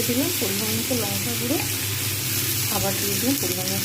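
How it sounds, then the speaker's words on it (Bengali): Chili powder and turmeric fry with spices in a hot pan, giving a steady close sizzle throughout, with faint wavering tonal sounds drifting over the top. "জাস্ট টেস্টের জন্য আবার একটুখানি ভাজবো"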